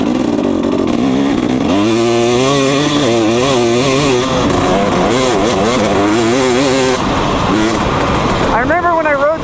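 A Kawasaki KX 250 two-stroke dirt bike engine revving loud and close, its high buzzing pitch rising and falling as the throttle is worked, steady and continuous for the whole stretch.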